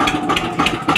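A 2006 Eicher 242 tractor's single-cylinder diesel engine idles close by, with loud, evenly spaced thumping pulses at a steady, slightly uneven beat.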